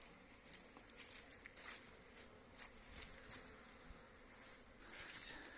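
A faint, steady buzz of many honeybees flying out of their hive in January, a mass cleansing flight in winter, with soft patter and flickers of nearby wingbeats and no voices.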